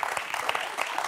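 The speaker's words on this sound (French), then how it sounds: "on va vous applaudir, Colette" A television quiz-show studio audience claps for a qualifying contestant in a brief, dense burst of applause, moderately loud and steady.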